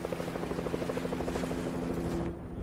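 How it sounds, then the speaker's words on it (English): A helicopter flies overhead in a Fortnite or Apex game, its rotor throbbing in a loud, fast, steady chop that stays close and continuous before easing slightly near the end. "There's a helicopter coming in, you guys. Just above the house, the hotel you're in."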